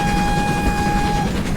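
A sustained, steady steam whistle from a GWR 47XX Night Owl locomotive in a train-driving video game, one continuous tone held for over a second over a rumbling engine background, with no talking.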